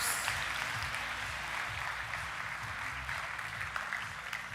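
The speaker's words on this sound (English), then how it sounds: "Another round of applause" Audience applause fills a conference general session in Washington DC honoring first-time President's Honor Club achievers, a steady wash of clapping at moderate level across the whole stretch with low murmuring underneath.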